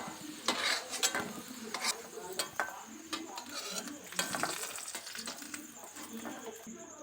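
Potatoes sizzle in a wok as a spatula scrapes and clanks against the pan in irregular strokes, close by.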